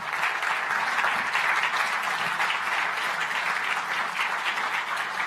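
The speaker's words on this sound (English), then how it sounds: "Please give her a warm round of applause." Warm audience applause at a conference plenary session welcoming a former US Secretary of State: sustained, even clapping from a large seated crowd, steady and full throughout with no speech over it.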